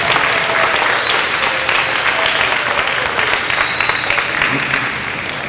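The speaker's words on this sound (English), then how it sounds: "they really deserve a nice round of applause" Steady applause from a crowd, a dense wash of clapping that stays loud and even throughout without letting up.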